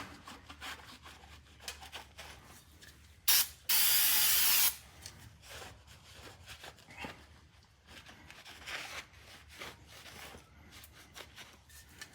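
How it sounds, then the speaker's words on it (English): Cleaner sprayed from a can onto a car exhaust part during an LS long tube header and Y-pipe install, heard as two sharp hissing bursts, a brief one and then a longer one lasting about a second, amid quiet shop rustling and handling noise. "Get your favorite cleaner and wipe her down."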